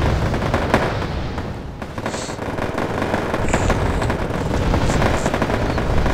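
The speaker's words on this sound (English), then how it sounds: "So he starts shooting and doesn't actually kill anything" Gunfire and battlefield combat sounds from the Wargame strategy video game, a dense, continuous roar of shooting and explosions at steady loudness throughout, with a brief voice near the start.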